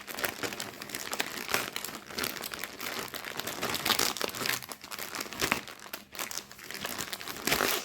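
A resealable plastic zip bag holding a cross-stitch kit crinkles and rustles close to the microphone, in dense, irregular crackling bursts that go on for about eight seconds without speech.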